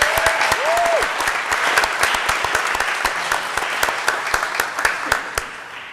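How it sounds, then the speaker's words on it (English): Audience applause at a board of education meeting, dense sustained clapping from a room of people, loud and continuous, with a few sharper individual claps standing out and no talk over it. "Let's give the city of Vineland a round of applause."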